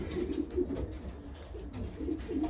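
Breeding pigeons in a loft coo softly. The low, repeated coos are close and quiet and run continuously over a faint background hum.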